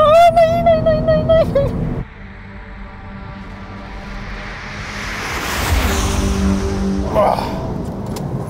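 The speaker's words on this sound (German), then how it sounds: "Jetzt kommt der Mercedes, jetzt kommt er." A Mercedes C43 AMG accelerates in a drag race against an Audi S5, a rising engine tone that swells into a loud rushing pass with wind noise as someone talks excitedly over it.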